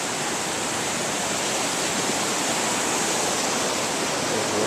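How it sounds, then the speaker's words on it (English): Rushing river water flowing steadily near a small village along the Inca Trail, a tributary of the Urubamba, heard close and loud as a continuous broadband roar with no voices. "crossing a river that flows into the Urubamba"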